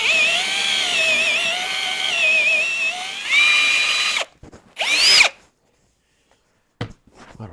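A power drill bores into wood with a Forstner bit, whining loudly and steadily for about four seconds, then cutting out and restarting in a short, rising burst before stopping, with a brief faint noise near the end.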